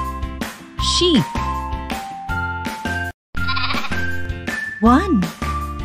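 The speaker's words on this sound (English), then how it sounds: "Sheep." Sheep bleat in short, wavering cries, one early and one near the end, over a steady, cheerful children's music track.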